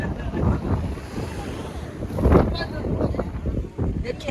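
Gusty wind buffets the microphone while sea waves wash and break nearby at a rough coast after a storm, with a surge of surf partway through and a voice talking at times.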